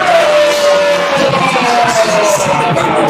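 Arena wrestling crowd reacting to Eric Silva's entrance, a dense continuous roar of voices with yells and whoops, loud and sustained throughout.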